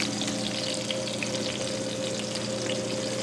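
Water poured into a measuring cup in a home kitchen while cooking steak and rice: a steady, continuous hissing splash for a few seconds, close and moderately loud, with no talk.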